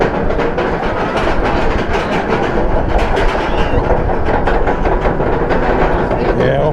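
A roller coaster train at SeaWorld Orlando runs along its track with a steady, loud rumble and clatter of wheels, wind noise and rattling throughout, heard close up from on board.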